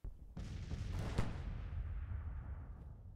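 Gunfire and artillery-like blasts in a Civil War video game, with a Confederate infantry battle raging: a sharp report near the start, then dense continuous rumbling volleys and booms, loud and sustained throughout.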